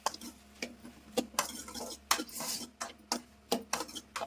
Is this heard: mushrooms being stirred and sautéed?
yes